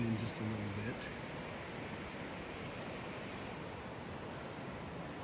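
Fast river water rushing through Zion Canyon in Utah, a steady broadband roar that holds constant throughout, with a brief bit of talk at the very start.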